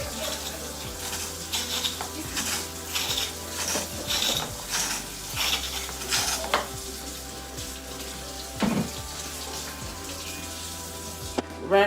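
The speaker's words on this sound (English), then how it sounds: "There's basically textured stones inside of the sharpener." A chef knife is drawn through a knife sharpener with wet textured stones inside, making repeated scraping and grinding strokes in an uneven rhythm. Running water and clattering kitchen sounds are mixed in nearby.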